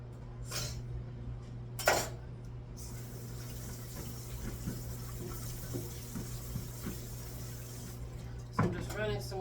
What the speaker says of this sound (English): I'm just running some more water on them